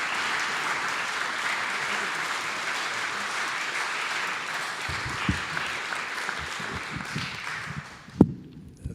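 Sustained audience applause welcoming a poet at a book festival opening ceremony, a dense, steady wash of clapping that fades near the end, followed by a single sharp knock and a few soft footsteps.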